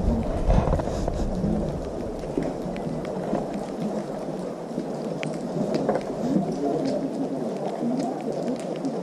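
Heavy rain falls outdoors in a continuous rushing patter with scattered sharper drop impacts, fairly close and steady, with low rumbling underneath.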